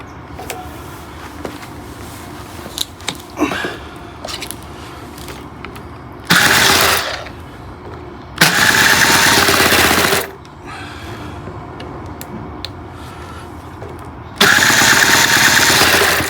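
A cold, refurbished Seagull Boomerang 46 outboard engine runs with three loud bursts of revving, each a second or two long, separated by quieter, rougher stretches of idling.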